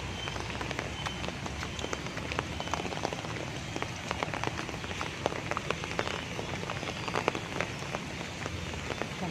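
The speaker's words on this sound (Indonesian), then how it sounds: "hujan kae" Heavy rain falling on surfaces where people are shopping outdoors: a dense, continuous hiss of close raindrop patter with scattered sharper splats throughout.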